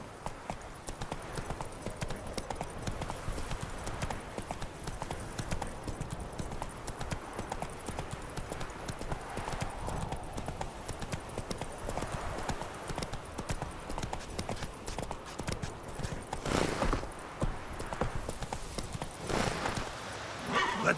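In The Witcher 3, the horse Roach gallops with a continuous rhythmic patter of hooves, mixed with outdoor game ambience and a few louder bursts.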